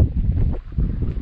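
Wind blowing at a high viewpoint on a Buddhist temple, a steady low rumbling gust buffeting close and loud throughout, with no voices.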